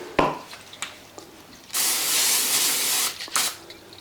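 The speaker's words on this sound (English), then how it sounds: "Just a light spray so it don't stick too much to the bottom." Cooking spray hisses into an air fryer basket in a short close burst lasting over a second, with a brief spritz before it and another after, all with no talking.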